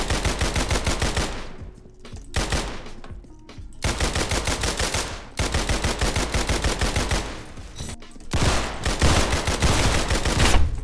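Rapid UMP submachine gun fire in Roblox Criminality, loud sustained bursts of closely spaced shots broken by short pauses, with several long automatic strings close up.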